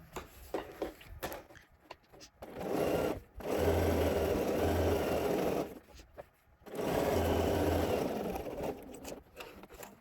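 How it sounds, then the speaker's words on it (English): A sewing machine stitching a garment seam runs in two long, steady, whirring bursts close by, with soft handling noises and short pauses between them. "We are just going to sew at 1/2 inch seam allowance up to the corner."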